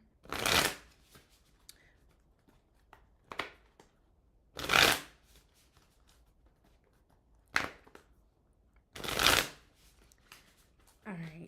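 Tarot cards being shuffled in several quick riffling bursts, close and crisp, spaced a few seconds apart, with someone speaking briefly between them.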